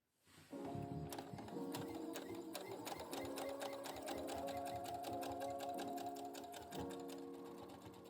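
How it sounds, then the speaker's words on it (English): A sewing machine stitches along a fabric hem, a steady close mechanical whir with a rapid, even ticking rhythm that runs continuously for several seconds without talk. "I can take my stitch line and sew along the hem."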